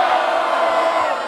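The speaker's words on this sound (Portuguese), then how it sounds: "Barulho para as rimas da Lia!" A rap battle audience roars and cheers in a loud, continuous wash of crowd noise with scattered shouts and whoops, no single voice standing out.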